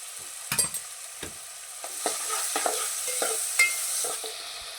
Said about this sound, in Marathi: आता आपण हा कांदा चांगला गुलाबी रंगावर फ्राय करून घ्यायचा